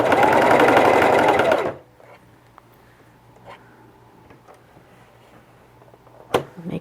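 A sewing machine stitches a fabric face mask in one loud, steady burst of fast stitching lasting about two seconds, then stops, leaving near silence and a few faint clicks.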